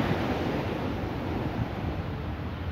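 Strong, steady wind blowing at a fishing spot on the shore at Tamboril, Camburi, mixed with the broad rush of surf and waves, loud and continuous throughout with heavy wind buffeting on the microphone.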